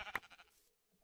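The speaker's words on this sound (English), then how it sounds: "Was that a sheep?" A single brief sheep bleat from a video game, faint and quick, trailing off into quiet.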